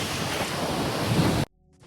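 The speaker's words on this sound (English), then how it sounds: "it's so windy." Strong wind buffets the microphone in a loud, steady roar that cuts off abruptly near the end, leaving near-silence.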